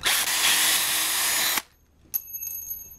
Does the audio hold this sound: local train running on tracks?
no